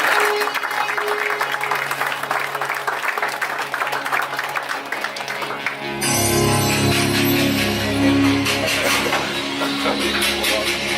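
A crowded Lions Club gala hall fills with sustained clapping from the audience, loud and even throughout, joined after a few seconds by a swelling band or music bed underneath.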